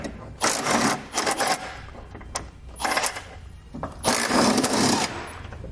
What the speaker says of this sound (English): we can grab a 17mm socket and remove the 2 bolts